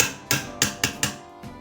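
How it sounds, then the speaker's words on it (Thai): A fan repair tool is hammered to seat an electric fan bearing, giving five sharp metallic knocks in an uneven quick rhythm, close and crisp with no talking. "ตอกไกลูกปืนพัดลม"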